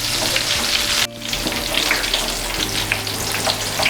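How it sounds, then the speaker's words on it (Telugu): Stuffed chilli bajji deep-frying in hot oil until light golden, giving a loud, dense, continuous crackling sizzle up close, with no talking. "ఇలా కలుపుకుంటూ లైట్ గోల్డెన్ కలర్ వచ్చేంత వరకు వేయించుకోవాలి."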